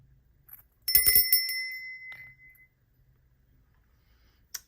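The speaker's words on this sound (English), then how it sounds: "and a cute little bell." A small altar bell is struck once, giving a bright ringing tone that decays over about a second and a half in a quiet room.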